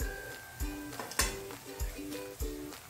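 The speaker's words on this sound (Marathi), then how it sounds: "या फोडणीमध्ये आपण हा मॅश केलेला बटाटा घालणार आहोत" Mashed potato being stirred into a sizzling spice tempering in a pan for batata vada, with a steady sizzle under repeated sharp spoon scrapes and knocks against the pan.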